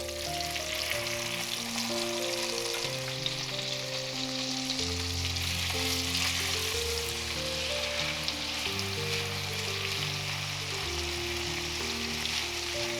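Salmon fillet searing in browned butter in a pan, giving a steady, even sizzling hiss that runs throughout beneath a bed of background music.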